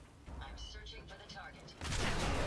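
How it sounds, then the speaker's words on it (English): A robot blowing apart as it is killed in Fallout 4, a sudden loud explosive burst arriving after a stretch of quieter game sound with a voice talking underneath. "When you kill robots, they explode."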